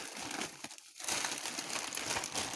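Plastic parcel bags crinkle and rustle up close, with a brief pause before more continuous crackly handling.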